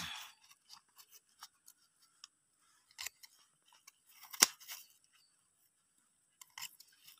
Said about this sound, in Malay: kita akan potong dia punya akar